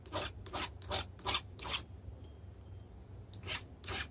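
Hand file rasping a chainsaw ripping chain's cutters for hardwood, a series of short close scraping strokes in a quick rhythm, then a brief pause before a few more strokes.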